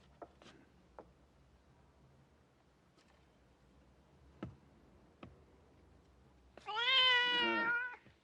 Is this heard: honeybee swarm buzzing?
no